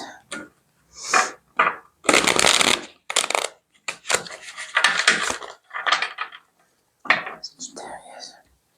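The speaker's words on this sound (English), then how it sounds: "Two more shuffles for you." Tarot cards are shuffled in a series of short, papery riffling bursts with brief pauses between them, close up, while a soft whispering voice talks alongside.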